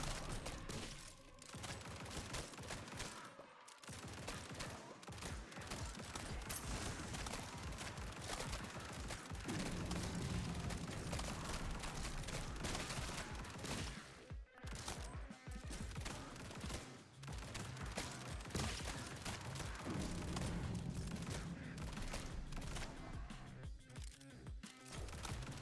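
Dense, continuous gunfire from shotguns and SMGs in the video game Grind Survivors, a relentless overlapping barrage with rapid repeated shots and only a few brief gaps.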